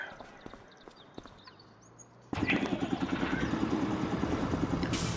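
Tractor engine in Farming Simulator 25 turns over and catches abruptly, settling into a loud, steady idle with a fast, even rhythmic chug after some quieter background clatter.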